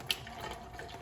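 Hot water from the water heater runs at low pressure from a sink tap into the basin, a steady soft hiss with a faint splash at the start, no talking.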